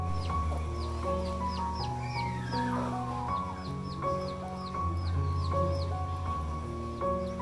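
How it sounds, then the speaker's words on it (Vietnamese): A fighting rooster (gà đá) clucks and calls repeatedly at close range in a farm setting, with other fowl sounds mixed in over steady background noise. "lấy con gà đá này"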